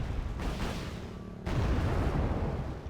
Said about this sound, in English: I'm sending a Lavi bomber to take down these tanks